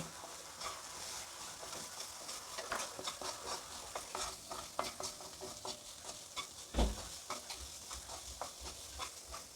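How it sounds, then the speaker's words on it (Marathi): Vegetables for moong dal chilla are sautéed in a pan with salt, making a faint, continuous sizzle with frequent light stirring clicks and scrapes. "भाज्या छानपैकी फ्राय झालेल्या आहेत आता त्याच्यामध्ये मी चवीनुसार मीठ टाकून घेते पुन्हा मी असं परतून घेते"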